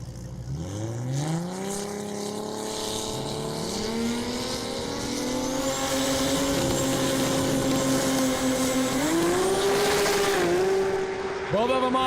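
Drag racing cars at Texas Motorplex launch off the line, engines rising steadily in pitch as they accelerate hard for several seconds, loud and sustained, with a commentator talking over them.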